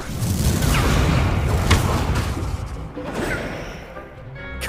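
An Incendio fire spell lands during a wand duel in the Hogwarts Legacy video game, a booming, crackling burst with whooshing impacts that fades into rumbling debris, followed by a softer magical shimmer.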